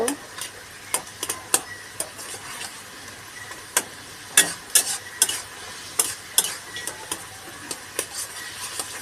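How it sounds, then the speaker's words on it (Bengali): Mango chutney simmering in a pan and being stirred, with a steady soft sizzle broken by sharp scraping and clinking strokes of a spoon against the pan at irregular intervals, heard close up. "আমের চাটনি হচ্ছে।"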